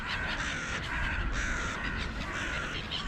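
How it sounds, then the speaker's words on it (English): A flock of crows caws repeatedly outdoors, their harsh calls overlapping in a steady, busy chorus at moderate distance over a constant background hum, with no talking. "There are a lot of crows over there for some reason."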